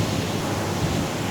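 Black Sea surf breaking on the shore at Karasu beach rolls on as a steady, loud wash of waves with wind, unbroken and without any talk.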